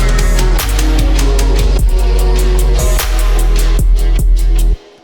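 A layered 80s-style programmed drum beat with punchy kicks and snappy hits over a deep sustained sub bass, loud and steady before stopping abruptly.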